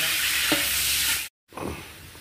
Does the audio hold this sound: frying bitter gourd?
yes